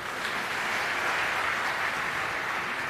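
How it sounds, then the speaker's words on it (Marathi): An audience at a public interview event in Sangli claps steadily in a dense, even wash of applause with no voices. "लोकांनी एवढ्या टाळ्या वाजवल्या"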